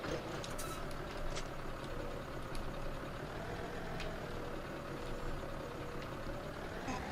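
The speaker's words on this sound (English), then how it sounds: "Oh, get back in the tractor." Tractor engine running in Farming Simulator 2017, a steady low mechanical drone with a constant rumble, moderately quiet and unbroken, with a few faint clicks over it.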